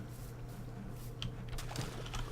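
Clicky computer keyboard typing beside a Minecraft game, a quick irregular run of key taps that grows busier toward the end, close and fairly soft over a low steady hum.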